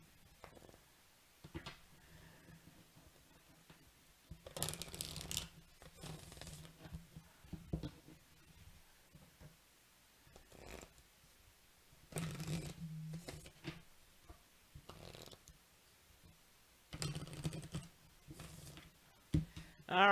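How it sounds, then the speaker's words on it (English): Tarot cards shuffled by hand in bursts of soft riffling and sliding, separated by quiet pauses, close and fairly faint with no talk. "You see how I'm shuffling all these cards?"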